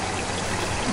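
Water pours steadily from a bucket into a filter, a continuous close rushing splash with no pauses, loud and even throughout.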